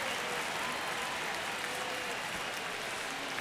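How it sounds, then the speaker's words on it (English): Steady crowd noise fills a baseball stadium during a tense ninth inning of a one-run Braves–Cardinals game, a continuous broad roar of cheering and clapping with no single voice standing out. "Crowd locked in right now."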